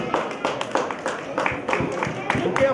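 A group of people clapping at a community caste meeting, a quick patter of hand claps mixed in with voices talking over them.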